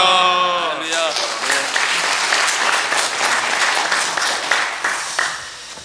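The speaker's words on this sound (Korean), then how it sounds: "박수로 기쁨으로 목사님 맞이하겠습니다." A church congregation at a Saturday afternoon revival service claps loudly and steadily to welcome the pastor. A raised voice calls out briefly at the start, then dense, close applause fills the room before thinning toward the end.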